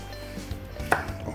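Potatoes for cabbage soup are cut on a board, with one crisp knife chop and a faint softer tap over a low kitchen hum.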